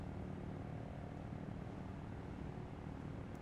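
A helicopter flies in the video game Arma 3, heard as a steady, fairly quiet engine and rotor drone that hums evenly throughout with no voices over it.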